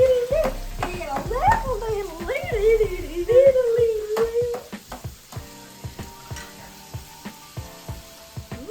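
Bulk breakfast sausage cooking in a pan for sausage gravy: a steady sizzle with clinks and scrapes of stirring, a voice talking over the first half, then sharper isolated taps alone.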